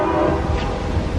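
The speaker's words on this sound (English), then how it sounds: "There's a train." A train horn sounds with rolling rail rumble underneath as a train passes close by, loud and steady through the whole brief moment with no talk.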